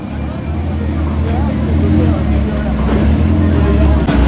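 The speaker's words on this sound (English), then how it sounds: "And the Porsche 918 following the LaFerrari for good measure." Porsche 918 and LaFerrari supercars driving past at the Top Marques show, heard as a steady low engine rumble with traffic noise, with people talking over it.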